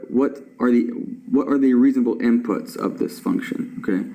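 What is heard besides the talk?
No everyday noises stand out.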